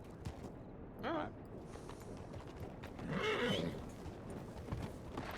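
A horse in a video game whinnies twice, a short call and then a longer, louder one, over steady hoofbeats and a low background rumble.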